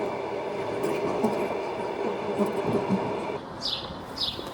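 A passenger train in Russia rumbles along the rails with a steady low roar and faint rhythmic wheel clatter, heard from inside the carriage, with a couple of brief high squeals near the end.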